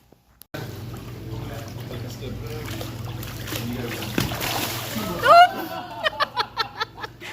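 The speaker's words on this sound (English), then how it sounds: "You got a big splash." A big splash of water outdoors, a sharp loud burst near the middle following steady water and boat-like ambience, then a series of smaller rhythmic splashes, with faint voices around it.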